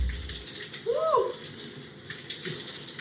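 A shower runs with a steady broadband hiss of falling water after being turned toward cold, with a brief voice-like exclamation in the middle and a small clunk near the end.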